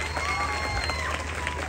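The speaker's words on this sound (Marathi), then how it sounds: "त्यामुळे तुमच्या गावासाठी पुन्हा एकदा जोरदार टाळ्या होऊ देत" A crowd in a Kolhapur village claps together as applause for their village at a Home Minister game show event, a steady, dense patter with scattered cheers throughout.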